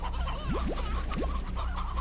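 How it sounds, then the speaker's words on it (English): Chickens cluck in the Slime Rancher video game, a short run of close, steady clucks with a few rising squawk-like calls over a constant background hum. "let's also take some chickens, because we have a lot of them"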